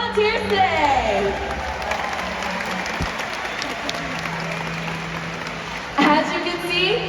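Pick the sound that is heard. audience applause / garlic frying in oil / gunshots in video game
audience applause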